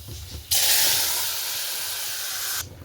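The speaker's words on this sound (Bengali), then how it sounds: "হালকা ভেজে নেব।" Fenugreek, puffed rice and black cumin hitting a hot pan to be lightly fried, a sudden loud sizzle that holds steady for about two seconds before cutting off, with no talking.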